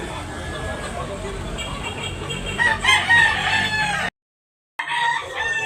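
A bullstag rooster at a chicken market in Tabunok, Talisay, Cebu crows loudly and close, with clucking around it and a person talking nearby, then cuts off briefly before resuming.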